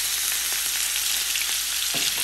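Chicken breast pieces fry in a hot pan for a chilli chicken diet lunch, a steady close sizzle with a few sharper pops and crackles standing out along the way.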